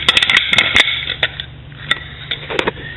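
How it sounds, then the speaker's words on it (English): A metal bolt is fitted into a plywood back plate, producing a quick run of sharp clicks and taps early on, then sparser knocks and rattles, close and fairly loud. "The first thing that I do is put the bolt into this back plate,"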